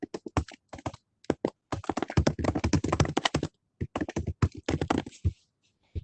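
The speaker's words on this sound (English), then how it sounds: "You can type a comment." Someone types a comment on a computer keyboard, producing quick close bursts of crisp keystrokes separated by short pauses, with no voices.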